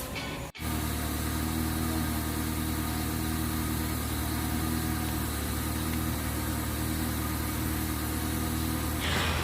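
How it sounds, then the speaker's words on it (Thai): A Honda Accord engine idles steadily close by during an engine test, a continuous droning hum with a faint vibration and no other sounds. "เพื่อ ที่จะทำการทดสอบระบบเครื่องยนต์ค่ะ"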